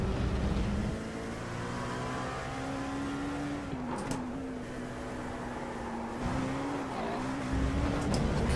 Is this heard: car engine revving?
yes